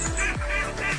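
Young egg-laying ducklings being fattened on a farm give a run of loud, close honking quacks, several overlapping calls within a second with no talk.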